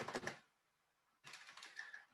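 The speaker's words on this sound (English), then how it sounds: "let me do it with the keyboard" Fingers type a password on a computer keyboard for an offline electronic proof of delivery app, two quick flurries of soft close key clicks separated by a short pause, very quiet.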